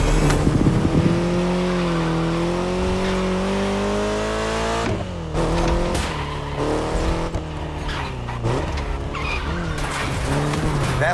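A car driven hard in The Crew Motorfest video game, its engine revving loudly with squealing, skidding tires and shifting pitch as it accelerates and slides, continuous and close.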